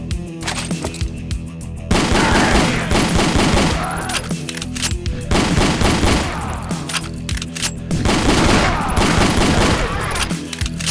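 Gunfire in the post-apocalyptic video game Ashes 2063 from weapons such as an autoloader and a revolver, with dense volleys of loud, sharp shots in repeated bursts that continue almost without pause, each burst echoing over a steady background.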